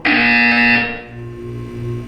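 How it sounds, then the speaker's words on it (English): A loud, harsh electronic buzzer from the video game Portal 2 sounds once, bright and piercing for under a second before fading into a lower lingering hum. "When you hear the buzzer, look down at the floor."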